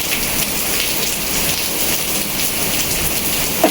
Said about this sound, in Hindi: और ये देखो बारिश तो और भी ज़्यादा तेज हुई।